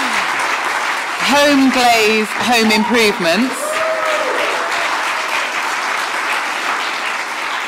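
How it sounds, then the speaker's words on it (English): Audience at a home improvement awards ceremony applauding the shortlisted companies, loud sustained clapping with scattered whoops while a presenter speaks over it. "Give them a round of applause."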